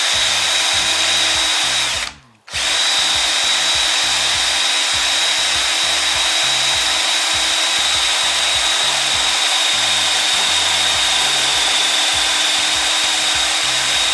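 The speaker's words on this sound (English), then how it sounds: "the drill is now through the steel" A power drill bores through steel at low speed, making a loud, continuous grinding whir with a steady high whine over a pulsing low chatter and one brief stop after about two seconds before drilling resumes.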